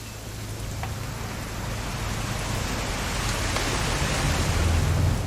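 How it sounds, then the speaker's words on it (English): Steady rain pours in a What Remains of Edith Finch game scene, a dense even wash that slowly swells, with faint distant thunder underneath and no talking. "It's gonna rain the whole weekend, isn't it?"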